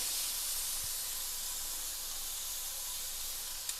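Meat searing in a hot pan, an even, continuous hiss of steam and spitting fat heard up close, with one faint click near the end.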